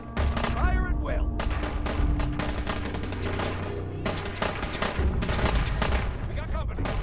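Fallout 4 battle gunfire on PS5: dense, loud volleys of rapid shots and bursts run the whole way through, with booming impacts mixed in and voices shouting over the fight.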